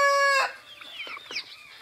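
A rooster crows in a rural farmyard, one loud, close, sustained crow that cuts off, followed by softer clucking from nearby hens.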